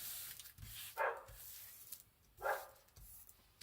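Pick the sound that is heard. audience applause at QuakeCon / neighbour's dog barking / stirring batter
neighbour's dog barking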